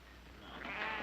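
A sheep gives a single short, faint bleat out on open ranch country, rising at the end over a low background hum.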